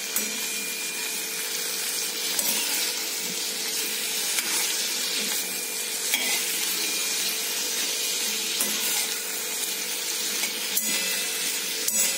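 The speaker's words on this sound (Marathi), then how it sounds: "तुम्ही ह्याला 2 मिनिट तुपात तेलात शिजवून घ्या." Pizza topping frying in ghee and oil in a home kitchen pan gives a steady, fairly quiet sizzle with faint crackles, and no one speaks.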